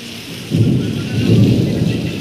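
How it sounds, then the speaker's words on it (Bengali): Heavy rain pours steadily in a dense low roar at the Kolkata Police training centre in Saluya, swelling after a quieter start and staying loud and close throughout. "প্রচুর পরিমাণে বৃষ্টি হচ্ছে"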